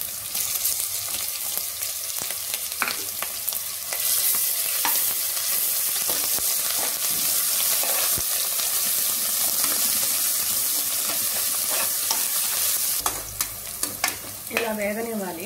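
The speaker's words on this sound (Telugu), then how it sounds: "ఇలా వేగనివ్వాలి." Green chillies and ginger garlic paste fry in a pan for Hyderabadi khichdi, giving a steady close sizzle with stirring scrapes throughout, and a brief run of tap water near the end.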